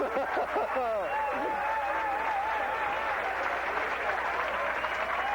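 Crowd at a 1984 PBA Buffalo Open bowling event erupting in steady applause and cheering after a strike, a broad wash of clapping with a commentator's voice talking over it near the start.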